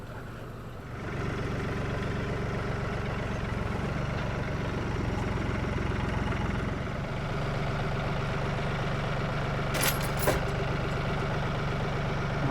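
A tractor engine runs at a steady idle close by, a low continuous drone that starts after a second and holds evenly throughout, with a brief faint clink near the end.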